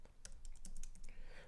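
Quick keystrokes on a computer keyboard while writing a C program, a close burst of about ten sharp clicks in an uneven rhythm, with no talking.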